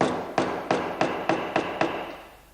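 Hammer striking the point of a nail set head-down on top of an old hammer, seven sharp metallic taps in a quick, slightly uneven rhythm, close and clear, with ringing tails and no talking.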